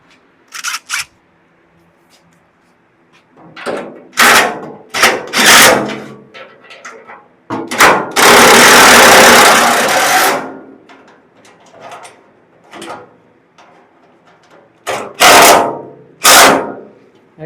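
A power tool driving screws into a 1969 Camaro, in short loud bursts of whirring and ratcheting with one longer run in the middle, close by, separated by quiet pauses.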